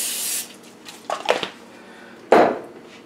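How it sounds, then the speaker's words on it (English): Cooking spray squirting in short hissy bursts to lightly oil preheated crumpet rings and the pan beneath, a long spray first, then a few softer puffs and a final strong burst, close and without talk. "I'm just using the cooking spray to lightly oil the rings and the pan under the rings"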